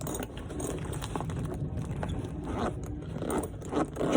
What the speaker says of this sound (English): It is a plastic zip,